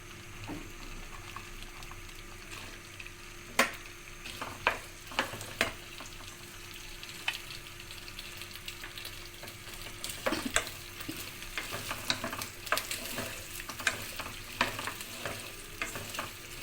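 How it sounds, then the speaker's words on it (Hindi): Okra fries in about half a cup of oil in a pan, giving a steady soft sizzle with intermittent crackles, pops and stirring clinks spread across the stretch, close and moderately quiet, with no talking. "हम भिंडियों को तल लेंगे अच्छी तरह।"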